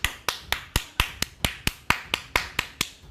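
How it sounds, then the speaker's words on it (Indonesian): An audience at a church gathering claps in unison for Jesus: about a dozen sharp, evenly spaced claps in a steady beat, close and crisp with no voices. "Tepuk tangan untuk Tuhan Yesus."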